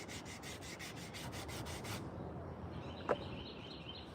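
A high-speed sander works a carved wooden spoon in a short burst of rhythmic, pulsing buzz up front, then it stops, leaving a steady background hiss and one faint sharp click.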